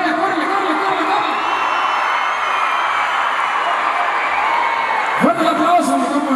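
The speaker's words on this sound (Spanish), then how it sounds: "Fuerte el aplauso a mi compa Manuel Herrera, hombre, que se hizo viral." Steady concert crowd noise with cheering and clapping at a show rolls on throughout, with a sudden louder shout near the end.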